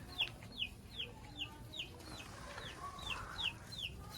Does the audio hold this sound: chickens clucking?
yes